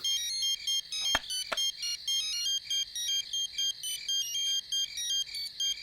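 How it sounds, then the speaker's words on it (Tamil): A phone ringtone plays for an incoming call, a repeating electronic melody pulsing steadily and fairly loud throughout, with two brief sharp clicks near the start and no talking. "ஒரு முறை புஷ்பாக்கு ஃபோன் போட்டு பேசுவோமா?"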